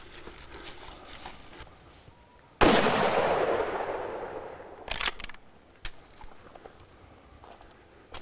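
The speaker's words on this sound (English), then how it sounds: "Put a shot down between his shoulders." A rifle shot fired at a buffalo on a hunt in Australia cracks out once, loud and sharp, then rolls away in a long fading echo across open country, with a few faint knocks and rustles after it.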